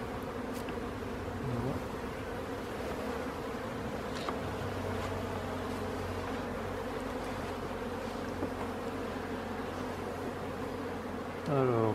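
Honeybees buzz around an open hive while frames are inspected, a dense continuous hum close by with a steady drone running through it, no talking.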